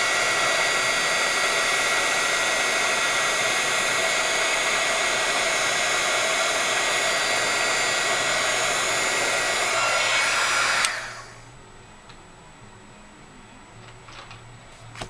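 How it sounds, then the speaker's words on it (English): A heat gun blows hot air in a steady, loud, broadband rush while heating a handmade card, then switches off abruptly near the end, leaving a quiet room. "we'll grab my heat gun and quick heat that"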